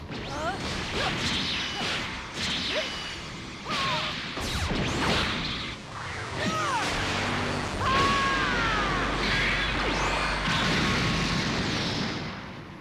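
Dragon Ball Xenoverse 2 combat with Super Saiyan Blue Evolved performing Comet Strike into Meteor Explosion: dense rapid whooshes, energy swishes and heavy crashing blasts rolling continuously, ending in a sustained rumbling explosion.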